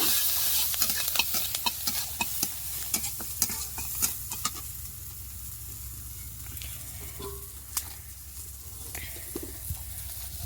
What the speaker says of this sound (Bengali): মাছ ভাজার কড়াইতে একটু রসুন থেঁতো করা কয়েক টুকরো পেঁয়াজ কুচানো আর কয়েকটি কাঁচা লঙ্কা চেরা দিয়ে দিয়েছি